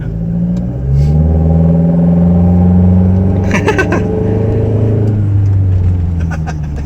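Toyota Fortuner with a new exhaust pipe, its engine heard close and loud as it rises into a strong rev, then settles back to a steady low rumble with some clatter.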